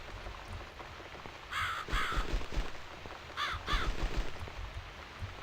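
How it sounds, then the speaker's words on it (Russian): A crow caws several times in the video game The Cat Lady, harsh repeated calls in two pairs over a rainy, noisy background. "Отстань, ворона."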